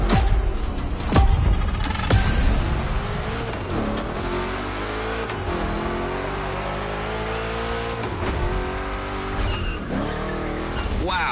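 Two Chevrolet big-block cars race in The Crew Motorfest, engines roaring loud and continuous with shifting revs and tire skids through rough turns.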